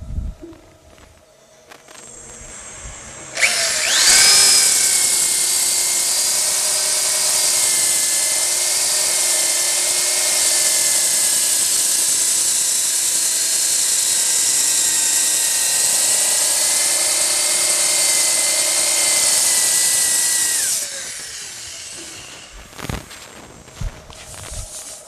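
A power sander works 80-grit abrasive across a spinning wooden bowl on a lathe, a loud sustained whirring hiss that starts abruptly, holds steady for about seventeen seconds, then cuts off, with quieter workshop sounds before and after.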